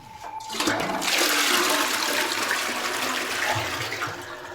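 A crooked toilet with blue water in its bowl flushes in a small bathroom in a Hanoi Old Quarter house, giving a loud, close, rushing gush that holds steady for several seconds and then starts to ease off, with no talk over it.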